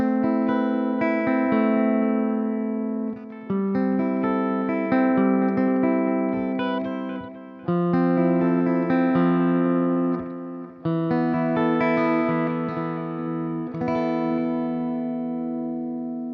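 An electric guitar runs through an ML Sound Lab Fluff amp model with the drive switched off, giving a clean tone; sustained chords and picked notes ring out steadily in several phrases, alone and close.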